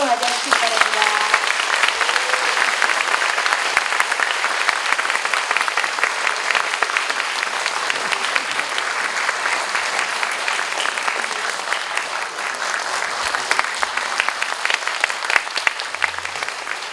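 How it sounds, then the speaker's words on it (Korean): A book concert audience greets soprano Lim Sun-hae with loud, sustained applause, dense clapping that fills the room for about seventeen seconds without easing. "여러분 소프라노 임선혜 아니스님 큰 박수로 맞아주시기 바랍니다"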